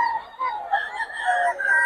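Chickens at a poultry market on Rose Street in Bocaue, Bulacan, give off a run of close, clear clucks and crowing calls in quick succession, loud and unbroken by talk.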